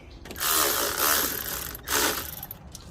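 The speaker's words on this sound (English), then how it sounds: "Let's tighten those bolts so we don't have to worry." A hand ratchet tightening bolts on an Injen cold air intake being fitted to a 2002–2003 Nissan Maxima, with three rapid clicking bursts of ratcheting close to the microphone and short pauses between them.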